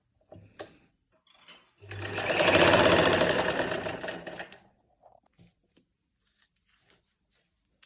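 Sewing machine stitching a finishing strip onto a dupatta, a loud continuous run of rapid stitching lasting under three seconds, framed by quiet handling clicks and taps before and after.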